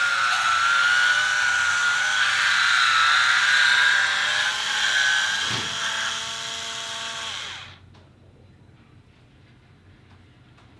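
An Oster electric wine opener's motor whirs steadily in a high, drill-like whine as it works a cork out of a bottle, then cuts off sharply near the end, leaving near silence.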